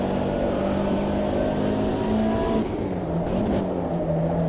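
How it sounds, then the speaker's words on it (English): An IndyCar in a racing video game approaches and roars past, a steady loud engine drone with a shifting pitch as it goes by, no talking over it. "I heard that IndyCar coming."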